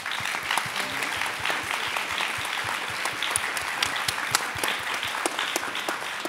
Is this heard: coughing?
no